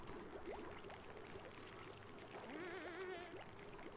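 Water pours in the video game Oxygen Not Included, a soft faint trickling stream running steadily under quiet game sounds and background tones.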